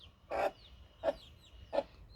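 Three short, moderately loud hen clucks spaced evenly apart, with quiet background between them.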